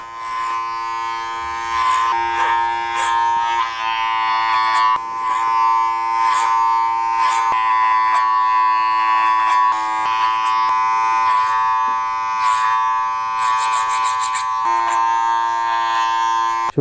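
Electric hair clippers fitted with a 1.5 guard, lever down, tapering the sides of a man's haircut, a steady close buzz with a tonal hum that shifts as the blades bite and lift through hair.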